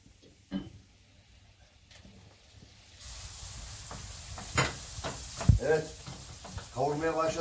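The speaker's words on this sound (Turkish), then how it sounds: "Şimdi güzel tereyağımızdan beraber soğanı kavuruyoruz." Onions sautéing in butter in a pan, a soft hiss and sizzle that rises partway through, with occasional stirring clatter. Someone talks over it.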